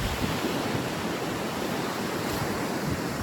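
Strong wind and rushing surf at Dagupan beach, a dense, steady roar of wind and breaking waves filling the whole clip with no pause, loud and close.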